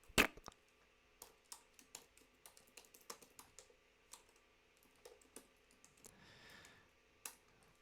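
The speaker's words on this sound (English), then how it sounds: "I'm gonna type the whole thing" Keys clack in irregular bursts on a computer keyboard, close and fairly quiet, with short pauses between strokes and one faint rattling patch near the end.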